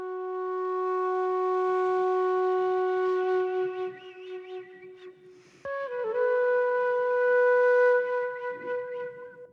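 Flute section from the intro of a Japanese lofi beat: a sustained, breathy tone holds steady, then shifts to a new note midway and carries on with gentle movement, played alone.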